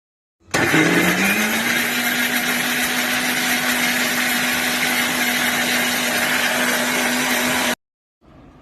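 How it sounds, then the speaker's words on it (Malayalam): A mixer grinder whirs loudly and steadily for about seven seconds while blending pineapple and water into juice, then cuts off abruptly into silence. "ഞാൻ മിക്സിയിലിട്ട് പൈനാപ്പിളൊക്കെ നല്ല അടിച്ച് നല്ല ഫ്രഷ് ജ്യൂസ് ആക്കിയിട്ടുണ്ട്"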